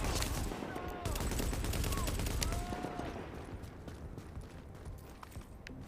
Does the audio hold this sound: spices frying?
no